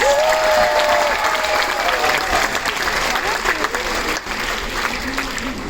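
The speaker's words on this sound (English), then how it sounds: "let's welcome with a thunderous round of applause" Sustained applause from a large comedy show audience aboard a cruise ship, loud and steady throughout, with a few cheers and whistles rising above the clapping.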